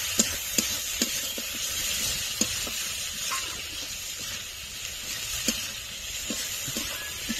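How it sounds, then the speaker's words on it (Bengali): Ginger and garlic paste with turmeric powder is stirred in a pan, a soft low sizzle under a string of light scraping taps from the spoon against the metal. "এক চামচের কম একটু হলুদ গুঁড়ো, আদা বাটা, আদা ও রসুন দিয়ে কিছুক্ষণ নেড়ে নেব।"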